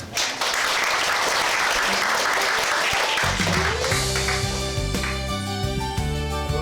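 An audience at a Korean talk on cyberbullying applauds a webtoon artist, a loud continuous wash of clapping that carries on as sustained music with a low pulsing beat rises beneath it.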